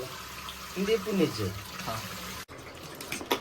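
Water pours into a kitchen mixer jar with a soft, close splashing trickle while people talk over it.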